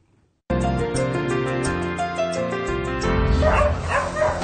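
Dogs at an animal shelter bark in a rapid chorus right after a brief silence, overlapping yips and woofs close by, growing busier and louder toward the end.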